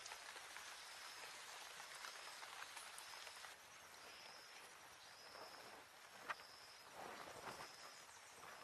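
Steady rain falling on a coastal island in Brazil, a soft, even hiss with faint dripping and the thin chirp of insects in the background.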